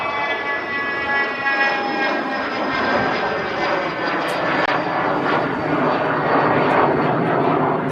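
A Hawker business jet passes at Manchester Airport, a loud, sustained engine roar with whining tonal hum, close and steady throughout with no talk over it.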